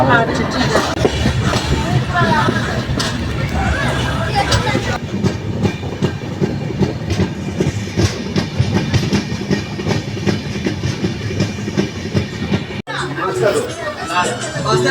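The Gour Express night train runs loud and continuous on the rails, a deep rumbling roar with rhythmic clatter, heard from inside the coach while passengers chatter faintly underneath.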